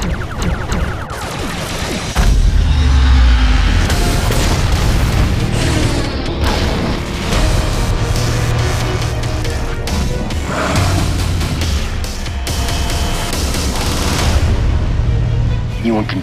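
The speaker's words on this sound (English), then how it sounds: "Gotti, prepare torpedoes. Fire on my mark." Starship in a Star Trek video game launches torpedoes amid heavy, booming explosions and rumbling blasts, loud and dense, with dramatic voices and score mixed in.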